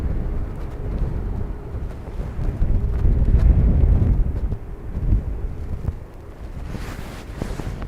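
Strong, gusty crosswind buffets the microphone at Dublin Airport, a continuous low roar that swells and eases in gusts, peaking mid-clip, with no voices.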